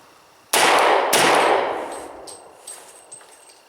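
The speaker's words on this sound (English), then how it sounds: "we're going to go ahead and shoot a couple into our target here, our center mass target" Two sharp shots from a Beretta 96 Brigadier Elite II .40 pistol fired at a target, loud and close, about half a second apart, followed by a long ringing decay and faint clinks.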